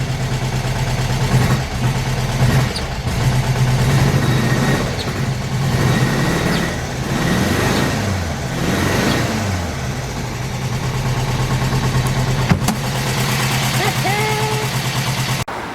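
Air-cooled engine of a lowered 1972 Volkswagen Beetle with a fixed idle, running steadily and loudly, with a swell of revving around the middle and a sharp click near the end, while someone talks over it.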